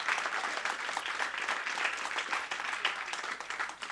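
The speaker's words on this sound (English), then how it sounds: "Clap it up for all this black love in here." Audience applause at a live stand-up comedy special in a theater, loud, dense and steady for the whole stretch, with scattered whoops over the clapping.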